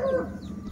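A single Aseel rooster gives short clucking calls, close and fairly loud, for under a second, with a low background rumble and no talk.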